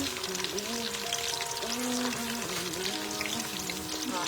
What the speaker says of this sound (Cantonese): 煎緊啦